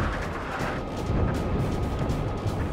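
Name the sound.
anti-aircraft flak fire in aerial combat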